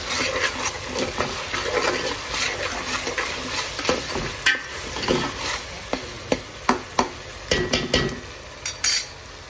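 Ginger garlic paste cooking in a pan, heard as a low steady frying hiss with frequent sharp clinks and scrapes of a spoon stirring against the metal, the clatter growing sharper and more frequent toward the end; no voices.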